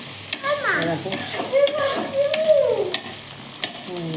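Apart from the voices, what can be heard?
onions frying in pan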